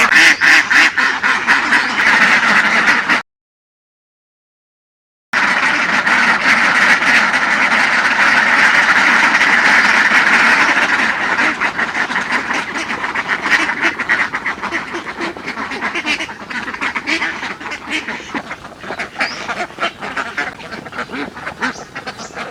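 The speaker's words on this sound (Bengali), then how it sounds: "এই যে হাঁসগুলো খাবার খাচ্ছে" Ducks on an enclosed duck farm quack loudly and continuously as a crowd while eating feed, with a brief silent gap early on and a slightly thinner chorus toward the end.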